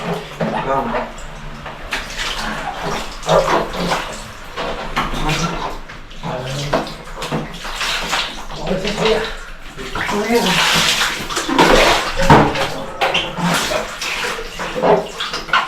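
Tap water runs steadily into a basin while a small child's hands are washed, with splashes and shifts in the flow as adults talk over it nearby.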